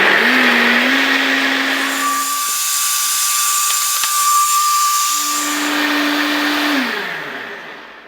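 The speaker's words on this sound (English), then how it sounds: "if you have one of these NutriBullets, or they call it the Magic Bullet, they're really loud, but they blend really well" NutriBullet blender blending tomato sauce, a loud close motor whine that holds steady, shifts pitch in the middle as the load changes, then rises again and winds down at the end, with no talking.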